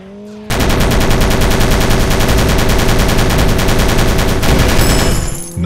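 Loud, rapid machine-gun fire from a Dragon Robot Car game, a steady rattling stream of evenly spaced shots that starts abruptly and holds for several seconds before tapering off.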